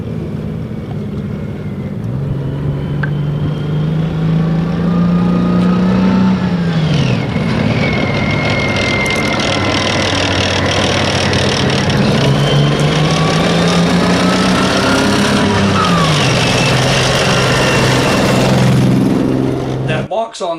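A rare tracked military reconnaissance vehicle that carries missiles runs its engine, giving a loud, continuous rumble with rising and falling whines. It holds steady close by for about twenty seconds.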